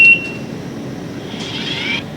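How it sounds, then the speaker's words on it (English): A safety alarm on a robotic work cell, triggered when a light curtain is broken, sounds as a thin high-pitched electronic tone, brief at first and then louder toward the end, over a steady machine hum. "Now I'm going to break it with the light curtain. This also starts the audible alarm and stops the robot."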